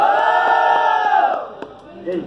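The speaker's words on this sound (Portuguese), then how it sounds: "Barulho pra quem achou que foi o Digão!" A crowd at a freestyle rap battle cheers and shouts loudly, the roar fading after a couple of seconds before a brief swell returns.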